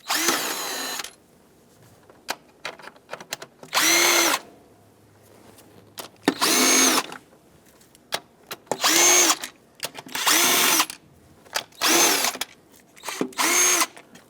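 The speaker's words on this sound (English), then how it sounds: "Now with an 8mm socket, I'm going to take out all 8 bolts that hold this lower intake on." Power driver with an 8mm socket spinning out lower intake bolts on a 3.6L Dodge Grand Caravan engine, about eight bursts of high whirring each lasting around a second, separated by brief pauses with small clicks and handling noises.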